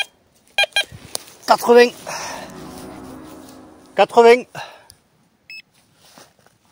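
A metal detector sweeping ground near quarries while hunting for Roman coins gives short electronic tones between stretches of a voice, with a brief high beep toward the end.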